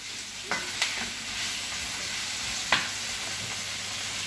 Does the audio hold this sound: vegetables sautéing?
yes